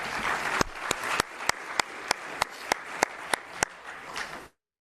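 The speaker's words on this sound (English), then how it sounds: "as I call your name, please come up and we'll applaud" An audience claps at a football award ceremony, dense applause with a few sharp, close, evenly spaced claps standing out before it cuts to silence.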